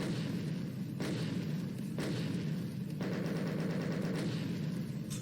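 Repeated heavy gunshots from the starting pistol in the first-person shooter ZionDOOM, a Doom 2016 mod: three sharp blasts about a second apart over a loud, constant game soundtrack.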